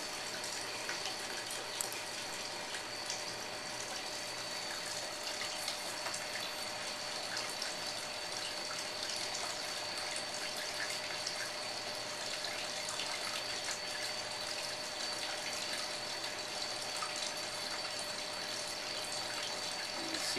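Biodegradable cleaner flows through a plugged geothermal open loop system in a steady, even rush of liquid with a faint constant tone, unbroken for the whole stretch.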